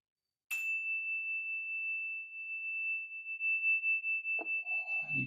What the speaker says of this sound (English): You can enjoy the sound of the bell for a few breaths